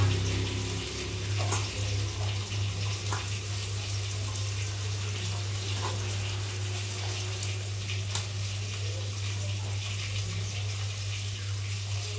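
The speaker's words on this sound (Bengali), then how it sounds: "তারপরে শাকগুলো এখন ধুয়ে নেব।" Running tap water pours steadily while leafy greens are rinsed at a kitchen sink, a continuous close hiss and splash with a strong low hum underneath and no talk.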